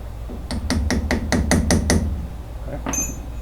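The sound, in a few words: tightening an antique car wheel bearing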